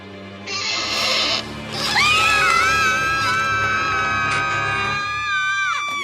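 Cartoon ponies scream together in a loud, sustained chorus of high-pitched, wavering voices, rising sharply after a brief opening burst and holding for several seconds over a busy background.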